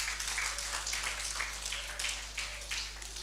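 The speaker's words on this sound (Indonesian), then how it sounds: "Kasih tepuk tangan buat Nikita." A church congregation applauds for Nikita: light, scattered clapping in uneven bursts, fairly faint against a low steady hum, with no one speaking over it.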